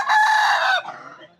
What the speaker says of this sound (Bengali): মোরগ সকালবেলা হলেই মোরগ ডাকে